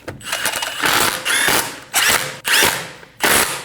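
Power tool with a ratcheting socket snugging down lug studs on a 2012-2022 Volkswagen Passat 2.5L wheel, several loud close whirring bursts with short pauses between them.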